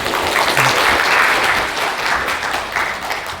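Loud applause from a conference audience at a PyCon APAC talk, a dense wash of clapping that holds steady for a few seconds and then eases off slightly, with no voices over it.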